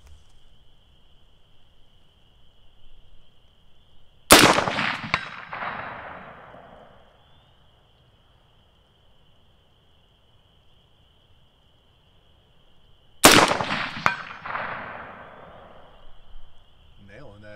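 A KE Arms KP-15 rifle with a 7.62x39 upper fires at a 200-yard target: two sharp, loud reports about nine seconds apart, each followed by a fading outdoor echo, with a faint steady tone between shots.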